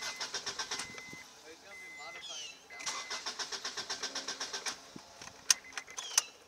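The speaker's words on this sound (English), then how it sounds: "And we got the ECU. Now we're gonna start it." A turbocharged Honda Accord cranked over after an ECU swap, with its starter churning in two bursts of rapid, evenly spaced pulses separated by a short pause, followed by a few sharp clicks.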